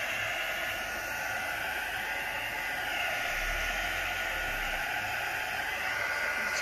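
Hair dryer blowing steadily on an alcohol ink painting on canvas, a continuous airy whoosh with a faint low motor hum, constant and fairly close throughout.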